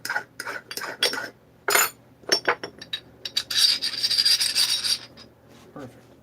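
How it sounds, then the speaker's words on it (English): A metal part being deburred with a hand file, giving short separate rasping strokes that turn into a longer, brighter scraping run, close and alone. "It's a little bit of deburring."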